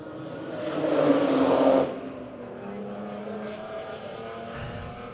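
Historic race cars battle for position on a circuit, with a loud engine roar that swells and then recedes as they pass. A fainter mechanical drone lingers afterward.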